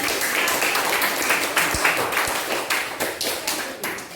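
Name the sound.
class clapping hands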